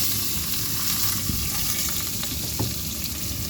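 Ground onion paste and green chillies sauté in hot oil for a Nellai fish curry, a dense continuous sizzle and crackle with faint stirring, close and steady throughout.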